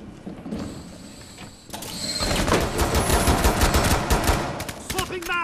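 Pistol fire in the video game Rainbow Six Siege, loud and close, with rapid shots building into a sustained, dense stream of cracks after a quieter opening.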